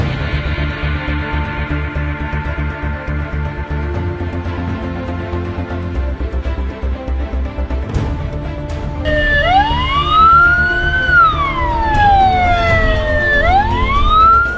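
Ambulance siren wailing loudly in rising and falling sweeps, heard alongside steady vehicle and road noise and a low engine drone.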